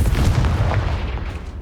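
A Confringo fire spell bursts in Hogwarts Legacy during a fight against an Acromantula in a spider den, producing a short, heavy, loud boom that trails off into a low rumble.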